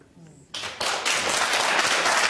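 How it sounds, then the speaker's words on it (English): A live audience bursting into applause at a talk on forgiveness and religion, loud dense clapping that swells within half a second and holds steady, with a voice under it at the start. "How can you applaud that?"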